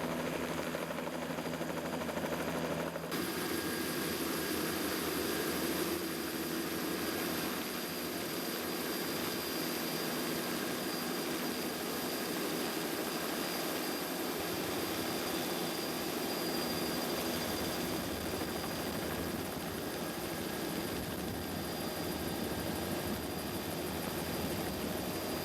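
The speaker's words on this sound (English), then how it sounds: "we booked the helicopter ride, so that was our express trip on the way back" A helicopter with no rear doors heard from inside on a ride over the Kimberley, with loud constant engine and rotor roar and wind rush throughout.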